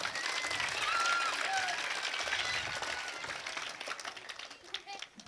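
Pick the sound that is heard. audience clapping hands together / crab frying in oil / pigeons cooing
audience clapping hands together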